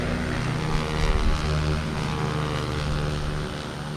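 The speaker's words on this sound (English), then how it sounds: "Hard on that throttle into turn 7, the fast left-hander here onto the main straight." Racing motorcycle at a national championship round accelerating hard out of a fast left-hand corner onto the main straight, a loud, steady high-revving engine drone close by with no talk.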